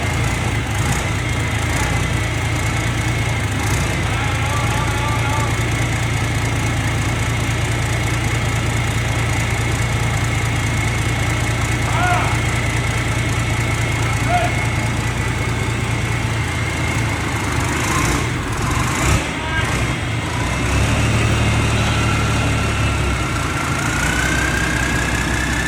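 A grass-cutting machine's engine runs steadily while cutting feed corn, a loud continuous mid-low drone that holds for the whole stretch with slight shifts in load, no talk over it.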